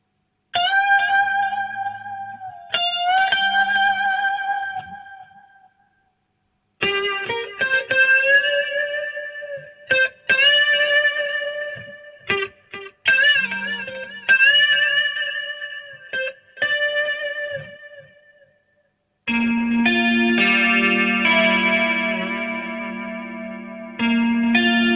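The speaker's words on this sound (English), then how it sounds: "I get the sound just with the chorus, like everything, with a little bit of delay." Electric guitar phrases played through a chorus pedal with a touch of delay: sustained bent notes in bursts separated by silences, ending on a loud held chord, alone with no talk.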